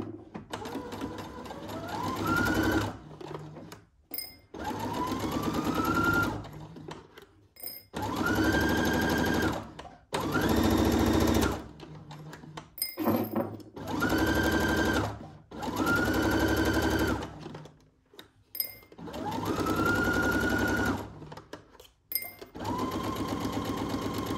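A home sewing machine runs in repeated bursts of stitching and back stitching, each whirring run rising in pitch before stopping, with short quiet gaps between about six close, loud passes.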